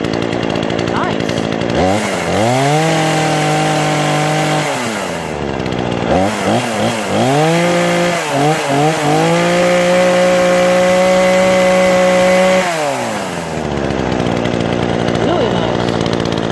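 Remington Outlaw RM4620 gas chainsaw with a 20-inch bar starts up and runs, revving repeatedly from a rattling idle to a loud, steady high whine, then dropping back, close by.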